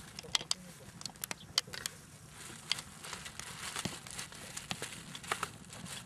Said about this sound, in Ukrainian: Пакет скривається.